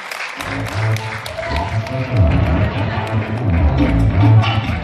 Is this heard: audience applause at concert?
yes